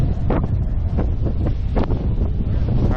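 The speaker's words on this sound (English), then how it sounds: "So you can probably hear it on the camera, it's super windy." Strong wind buffets the microphone at Lanier Speedway during a car meet, a loud continuous roar and rumble with gusty surges filling the whole stretch.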